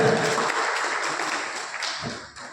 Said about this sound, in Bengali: ওনাদের জন্য একটু বড় করে হাততালি হয়ে যায়।